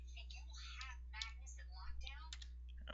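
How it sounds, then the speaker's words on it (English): Keys clatter on a computer keyboard as ipconfig is entered, a quick run of light clicks in short clusters over a steady electrical hum. "Type in ipconfig."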